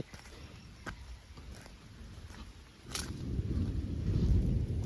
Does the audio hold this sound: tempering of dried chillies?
no